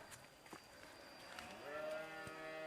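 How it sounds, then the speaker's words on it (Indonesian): Farm goats bleating at a distance in a rural village, a faint drawn-out bleat rising over quiet outdoor ambience. "Tuh, di sini juga banyak kambing Neng ya"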